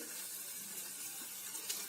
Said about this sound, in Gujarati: ગરણીમાં લઈ લેવાના, એટલે એકદમ પાણી નીતરી જાય